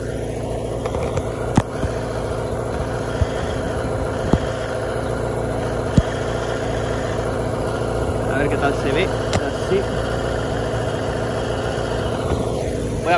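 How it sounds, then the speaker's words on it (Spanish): A Honda CBX 400 brat-style café racer motorcycle engine runs steadily for the whole stretch, a continuous mid-low drone with a few sharp ticks and knocks, and faint talk or wind noise underneath. "grabaré pues una mini vuelta a la moto para que la veáis en acción"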